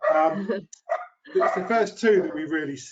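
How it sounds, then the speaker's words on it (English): A dog barks in a home setting, apparently at a delivery man at the door, with its barking mixed in behind someone speaking steadily close to the microphone. "I do apologise about the dog."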